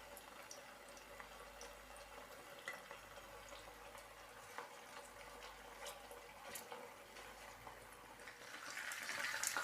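Chicken seekh kabab rolls fry in oil in a pan, giving a steady low crackle and sizzle that grows louder and brighter toward the end, with no talking.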